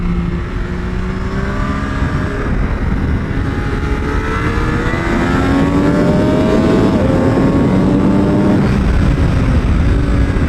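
A Triumph Daytona 765 Moto2 motorcycle revs loud and close on a track, its engine note rising through the gears with quick auto-blip downshifts, one continuous roar with no talking.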